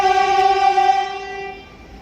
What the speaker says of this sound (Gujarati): આ મેટ્રો જાય છે,